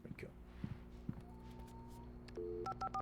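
Telephone dialing in the Alan Wake video game: after soft footsteps and low ambient hum, a quick run of sharp touch-tone beeps sounds near the end, each short and evenly spaced.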